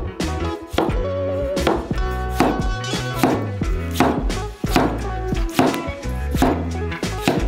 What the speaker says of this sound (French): Les tomates sont coupées en tranches.